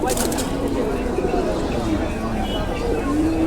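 Low cooing from racer pigeons rumbles beneath someone talking at a pigeon market, with a steady murmur of birds in the background.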